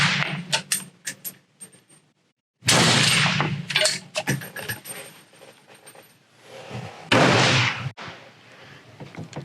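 FN SCAR 20S rifle firing a three-shot group on a range: three loud, sharp reports spaced a few seconds apart, each with a rolling echo tail. Faint clicks and handling noise fall between the shots.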